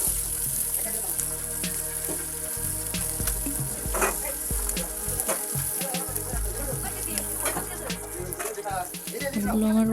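Tengra fish sizzling in hot oil in a pan, with steady frying hiss throughout and the clink and scrape of pieces being turned and lifted out one by one.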